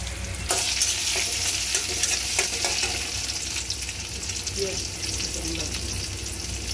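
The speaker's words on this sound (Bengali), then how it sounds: "আর এই যে কাঁকরোল ভাজা হতেছে" Pieces of pointed gourd fry in a pan with a dense, continuous sizzle up close, dotted with sharp crackles and a few stirring scrapes, steady and fairly loud throughout, with no voices.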